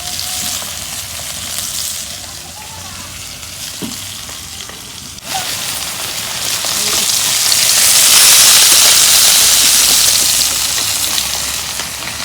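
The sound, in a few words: fish frying in oil in a pan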